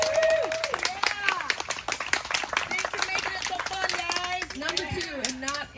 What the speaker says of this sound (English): let's give everyone a round of applause there